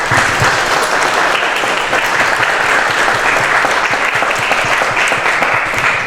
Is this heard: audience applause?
yes